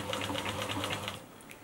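A 1982 Bernina sewing machine runs at a steady clip, its needle thumping in a quick even rhythm with a mechanical whir underneath, close by, for about a second before stopping abruptly.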